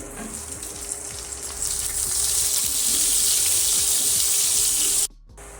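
Onions go into hot oil already holding garlic for a mixed-vegetable kadhi. The hissing sizzle jumps louder partway through, holds steady, then cuts off abruptly.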